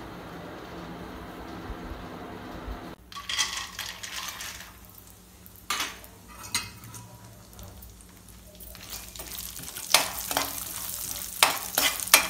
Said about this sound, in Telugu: కొద్ది నెయ్యి వేసి గోడపి ఈ బాదం వేసుకోవాలి